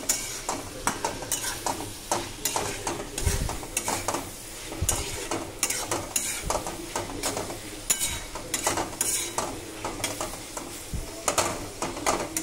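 Mutton fries in oil while being stirred steadily, a constant sizzle cut by rhythmic scraping and clanking strokes of a ladle against the pan, close and fairly loud, with no voices.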